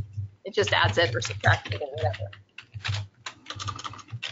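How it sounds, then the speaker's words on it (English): Computer keyboard typing clicks away in the background during an online talk, running as quick soft clatter beneath a continuous speaking voice. "Sorry about the typing noise in the background there."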